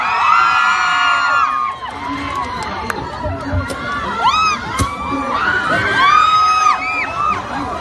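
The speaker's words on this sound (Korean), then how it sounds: "큰 박수 부탁드리겠습니다." An audience at a live concert cheers and shouts loudly, with high whoops and screams rising over crowd noise and amplified music tones, sustained throughout.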